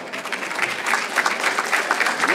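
Crowd applauding first responders at the Valley Patriot Bash in Lawrence, MA, a brief burst of clapping with some voices mixed in.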